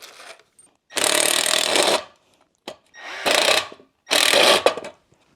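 A power drill drives self-drilling screws outdoors on a homestead project: three loud, whining bursts of about a second each, separated by short quiet gaps with small clicks and handling noises.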